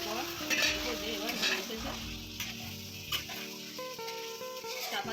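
Chicken with coriander leaves stirred and fried in a pan for Bengali dhaniya chicken, soft sizzling under repeated scrapes and clinks of a spoon against the pan, fairly quiet and continuous.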